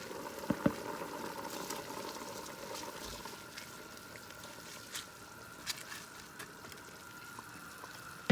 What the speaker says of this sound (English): So this has now started to come to a boil, so it's time to now put in the rice.